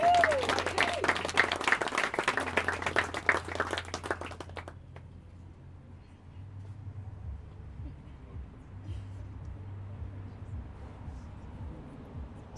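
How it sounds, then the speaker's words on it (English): Wedding guests at an outdoor garden ceremony clap for the bride's parents, a burst of applause lasting a few seconds before fading to quiet open-air ambience with a low steady hum. "A round of applause to Mum and Dad, ladies and gentlemen."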